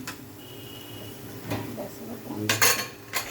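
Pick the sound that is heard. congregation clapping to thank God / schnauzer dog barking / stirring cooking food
stirring cooking food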